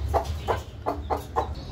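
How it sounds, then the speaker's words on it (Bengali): An Aseel hen brooding her eggs clucks five short, evenly spaced times at close range, each cluck a brief throaty pulse. "আঁচিল মুরগিটা নিজেই ডিমে তা দিচ্ছে"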